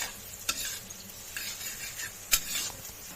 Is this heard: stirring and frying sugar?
yes